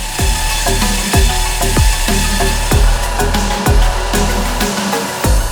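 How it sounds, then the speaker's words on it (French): A diamond wire saw grinds through a concrete bridge segment during a demolition, its cable looping round the block in a loud, steady drone cut by regular low thumps about once a second. "on fait tourner le câble autour du voussoir en béton. Et petit à petit, on va le scier en totalité."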